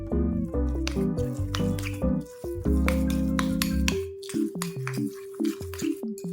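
Slime is stirred with added water in a container, producing wet squelching and dripping sounds in quick irregular pulses, close and fairly loud, with no talking.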